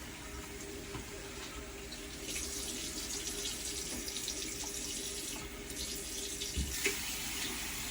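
Tap water runs steadily into a sink during face washing, a close, even splash that grows slightly fuller partway through, with no talk.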